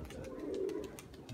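Adult pigeon cooing close by in the rain, a soft low warbling coo that swells in the middle and repeats briefly at the end.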